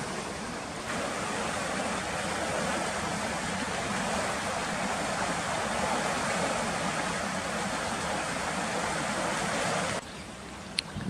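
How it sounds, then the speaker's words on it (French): A river flows steadily outdoors, a broad continuous rush of water holding at an even level for about ten seconds before cutting out abruptly, with a brief small knock near the end. "Je vous montre vite fait la rivière"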